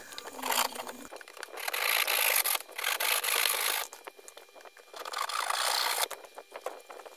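A saw cuts through a rotten, spongy bamboo tube in long, rough strokes with short pauses between them, heard close and loud with no talking.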